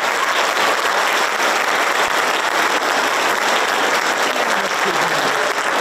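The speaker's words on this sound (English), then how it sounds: "Let's give him a round of applause." Audience at a school choir concert applauds steadily, a dense, even wash of clapping hands sustained throughout without a break.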